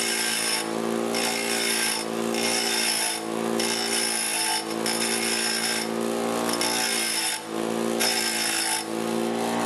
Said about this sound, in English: Turn on my grinder. Let it get up to speed.